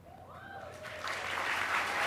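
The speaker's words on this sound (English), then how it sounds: "Brad Pitt applauds in the audience." An audience at the Golden Globe Awards ceremony at the Beverly Hilton applauds, the clapping building from quiet to a fuller, steady wash of hands with no voices over it.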